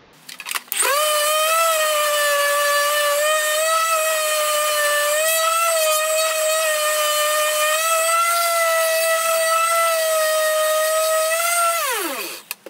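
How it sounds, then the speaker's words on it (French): A power sander runs on a wooden board being shaped for a ramp. It gives a loud, steady, high motor whine that rises near the start, holds for about eleven seconds and then winds down. No one speaks. "vous poncez pour que ça soit exactement pareil"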